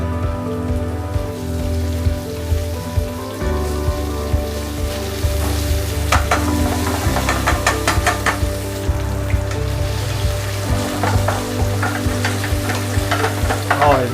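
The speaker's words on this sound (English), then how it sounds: "now we can add our mushroom and chili at the same time." Mushroom and chili sizzling and frying in hot oil in a pan, a loud continuous crackle with repeated stirring scrapes, no talking.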